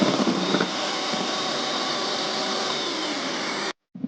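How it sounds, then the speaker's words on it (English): An electric mixer whips five egg whites for a Polish meringue cheesecake, a loud steady motor whir running continuously before cutting off abruptly near the end. "First, I will mix the egg white."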